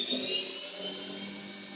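A HAAS TM1 milling machine spindle spins up toward 6000 RPM, a steady high-pitched whine with a lower mechanical hum underneath, continuous and fairly loud for the whole moment with no talking.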